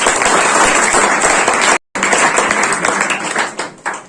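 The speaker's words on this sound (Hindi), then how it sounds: "जरा इनके लिए जोरदार तालियां हो जाए।" A seminar audience at a coaching class gives loud applause for a 10th-grade topper, dense clapping that cuts out briefly midway, resumes, then thins toward the end.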